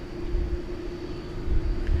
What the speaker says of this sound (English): An A330-200 is headed back out now.